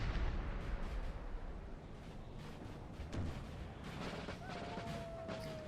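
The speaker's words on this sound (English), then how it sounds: "This artillery's overshooting here" Artillery fire in Napoleon: Total War booms as repeated distant cannon blasts over a noisy battlefield din, with a faint whistling streak near the end.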